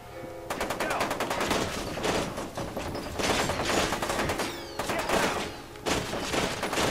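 A rifle in F.E.A.R. 2 fires three-round bursts, several loud clustered volleys of rapid gunshots in quick succession, dense and close, with brief gaps between bursts.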